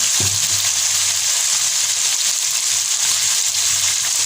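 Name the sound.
tomato masala frying in a pan with crushed red chilli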